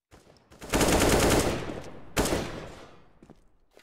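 Desert Eagle pistol gunfire in Counter-Strike on the Cache map during a competitive match: a short burst of loud, close shots followed by a second sharp volley, trailing off into quieter game ambience.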